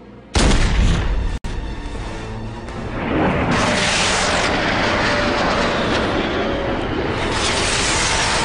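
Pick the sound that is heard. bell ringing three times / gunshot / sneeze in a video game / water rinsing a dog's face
gunshot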